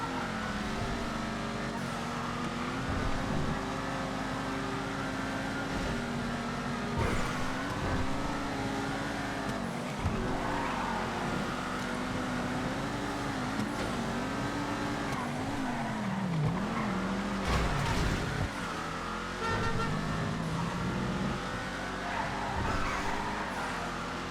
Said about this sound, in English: Another muscle car, by the way.